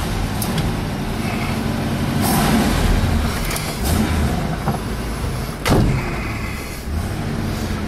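A 1972 Chevelle cruising slowly around a parking lot, its steady engine rumble and road noise heard from inside the car, with a few brief knocks and thumps over the smooth drone.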